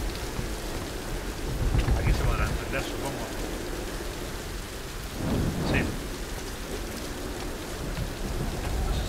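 Steady rain pours down in the Tomb Raider video game, a broad continuous hiss with a brief low rumble swelling midway, while someone speaks over it.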